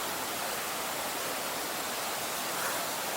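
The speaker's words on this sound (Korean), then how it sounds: "피톤치 물소리도 나고요." Continuous rushing of a mountain stream on Bukhansan, a steady broadband wash like a small cascade, even and unbroken with no voices.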